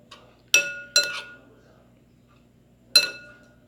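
A spoon clinks against a bowl while tuna sandwich spread is mixed, three sharp, bright knocks, two close together and then one more after a quiet gap.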